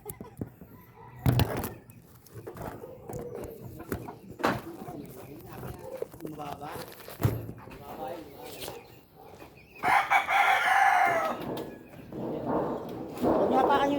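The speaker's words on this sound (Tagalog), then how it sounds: "Nagbablog din yung manok eh." Chickens cluck and crow intermittently at a subdivision while people talk nearby and sharp metallic bangs from roofing sheets break in at intervals.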